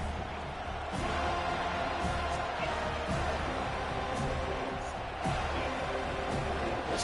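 A football stadium crowd roars steadily through a kickoff at a Florida State Seminoles game, a dense, loud wash of cheering with brief surges and distant shouts.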